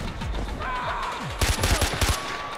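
Gunfire from a weapon in the Far Cry 4 video game: a few scattered shots, then a rapid close burst of loud bangs near the end, with no one talking.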